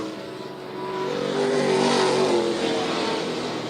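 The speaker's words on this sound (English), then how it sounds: "Cars are pretty spread out around the racetrack." ARCA Menards Series race cars roar around the dirt oval at the Illinois State Fairgrounds, one engine rising loudly as it nears and passes, then fading slightly.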